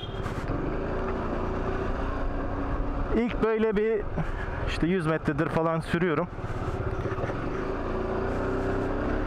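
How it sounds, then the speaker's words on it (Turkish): Exhaust of a new Peugeot XP400 GT motorcycle while riding, a steady engine drone with wind noise throughout as the rider talks over it in Turkish. "Motorun egzozu bir defa çok güzel bir ses veriyor. Çok tok bir ses veriyor."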